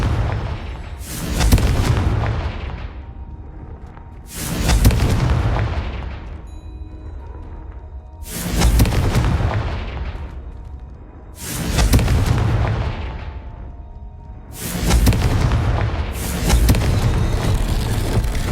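Fire spell blasts in the video game Hogwarts Legacy: five loud, booming explosions arrive about every three and a half seconds, each with a deep roar that slowly fades before the next, with no talking.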